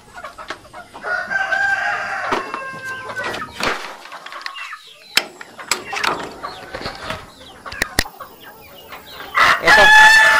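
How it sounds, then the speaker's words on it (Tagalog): Hens and roosters on a farm with breeder pens cluck and crow loudly and close at hand. Overlapping calls run throughout, and a drawn-out crow rises near the end. "ito po yung mga inahin po rito."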